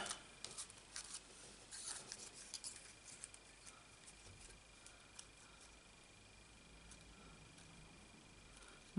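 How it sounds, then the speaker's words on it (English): Scissors snip through card in a quick run of faint, close crisp cuts, followed by quieter rustling. "you can cut the words out and then you can cut the backing card as well"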